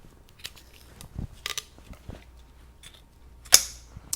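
Radiator hose for a Rotax DD2 go kart is cut through. Several sharp, quiet snips and clicks come at irregular intervals, the last one loudest, in an otherwise quiet room with no talking.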